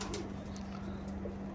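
Pigeons coo in low, soft repeated calls, with a steady hum underneath and a few faint high chirps, fairly close but quiet.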